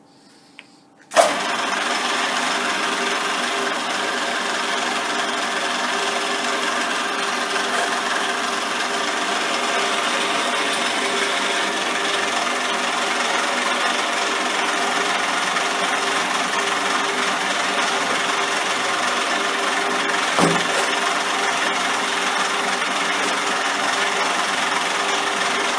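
A centre lathe cutting a groove while the cut depth is eased down with the quill stop, a steady continuous machining whir and hum that starts abruptly and holds evenly, with one brief knock near the end.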